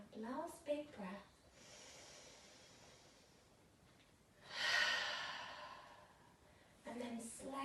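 A slow, deep breath in and out during a relaxing yoga session, soft airy inhale then a longer audible exhale, close and quiet, framed by brief speech at the start and end.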